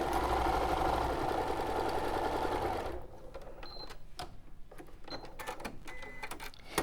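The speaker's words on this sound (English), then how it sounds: "So I'm just going to sew the two sides of these together." A sewing machine stitches two sides of fabric together in a steady, loud mechanical whir for about three seconds, then stops, leaving quieter handling clicks and taps.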